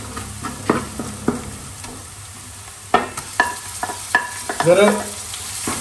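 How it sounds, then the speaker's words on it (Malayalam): Ginger and garlic sizzle in a hot pan for a Kerala chicken dish while a spoon scrapes and stirs in uneven strokes, louder clanks near the end over a steady frying hiss; a brief word is spoken. "ഇപ്പം നമ്മൾ ഇട്ട ഇഞ്ചിയും വെളുത്തുള്ളി ഏതാണ്ട് ഒരു പിന്നെ ബ്രൗൺ കളർ ആയി വരുന്നുണ്ട്."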